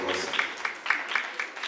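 Indoor audience applause at an event, steady dense clapping at moderate loudness filling the whole short moment.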